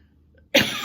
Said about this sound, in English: I've got a tickly cough.